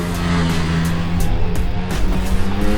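A Ducati Streetfighter V4 S motorcycle on a race track gives a loud, close engine roar. The revs rise and fall in quick surges with sharp bursts as it accelerates.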